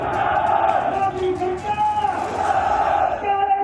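A crowd at a farmers' mahapanchayat chants political slogans in loud, rhythmic massed voices that rise and fall in repeated waves, close and sustained throughout.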